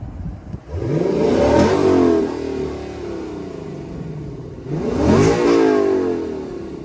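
A Lexus LC500 engine revs up loudly twice, rising in pitch and falling back to a rumbling idle between the revs, close by with no talking.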